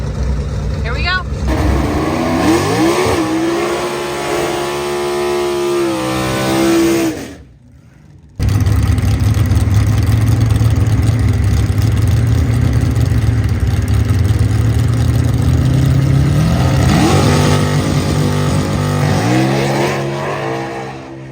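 A race car runs a drag test while checking shift points: the engine revs climb and drop through gears in rising sweeps, a brief lull follows, then a loud sustained roar builds again.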